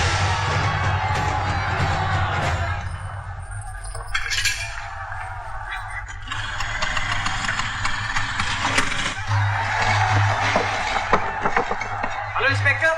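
Large crowd gathered outside a building, a sustained murmur of many voices with scattered shouts and cheers, steady and fairly loud, over a low engine-like rumble.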